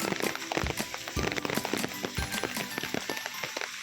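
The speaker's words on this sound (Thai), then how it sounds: "ฝนก็ยังคงโปรยปลาย ไม่มีที่ท่าว่าจะหยุดเลย" Light rain drizzles on a forest nature trail at Ang Ka on Doi Inthanon, a soft steady patter broken by scattered close drips and taps, with no voices.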